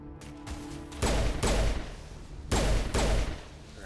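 Gunfire in the Mass Effect video game, with two loud bursts of rapid automatic shots, each lasting about half a second and separated by a short pause, close and heavy over quieter background game sound.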